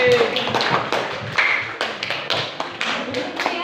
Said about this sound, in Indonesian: Itu beri tepuk tangan untuk kamu tadi.